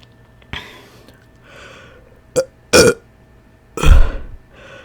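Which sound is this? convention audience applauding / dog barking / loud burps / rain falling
loud burps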